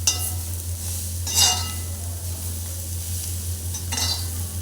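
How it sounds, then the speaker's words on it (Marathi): Kantoli vegetable with coriander sautéing in a pan, a steady low sizzle with a few brief bursts of spatula stirring against the metal, close and moderately loud. "आणि छान परतून घेऊया"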